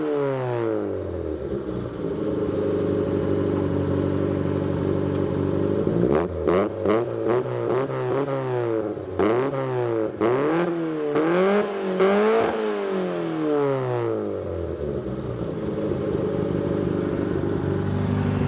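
An 80s supermini's warm engine is started at the push of a button, then idles steadily with a few throttle blips and rising and falling revs, close and loud.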